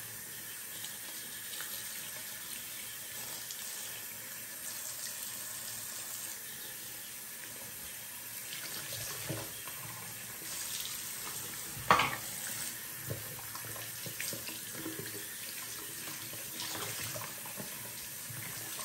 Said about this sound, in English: So you're just going to go ahead and rinse these out, get as much soap out of them as you can.